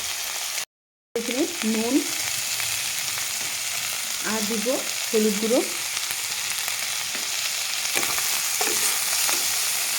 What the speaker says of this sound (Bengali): তো পেঁয়াজটাকে আমি হালকা ভেজে নেব।